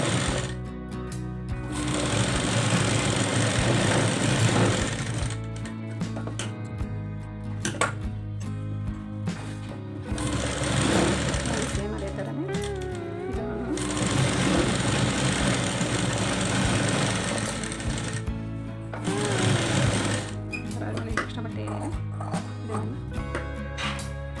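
A sewing machine runs steadily while stitching a blouse, its loud, fast mechanical whir continuing for long stretches, broken by a few brief pauses and restarts, with no talking.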